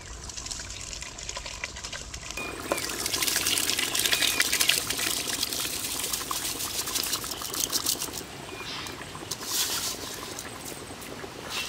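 Rice being poured into a cooking pot of water for seeraga samba mutton biryani, a sudden watery splash and pour followed by continuous bubbling and sloshing up close, with no talk.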